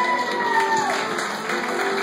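Audience applause for a giant diplodocus puppet at a dinosaur puppet show, a steady close wash of clapping with a few cheers and a voice faintly over it.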